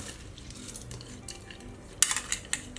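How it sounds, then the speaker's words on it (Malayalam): After some quiet scraping and clinking, washed dal lentils are tipped into a metal pressure cooker with a short rattling patter, close and fairly soft. "ഞാനിവിടെ ഒരു കുക്കർ എടുത്തിട്ടുണ്ട്. അതിലേക്ക് ഞാനിത് പരിപ്പ് കഴുകി എടുത്തിട്ടുണ്ട്. അതിട്ട് കൊടുക്കാം."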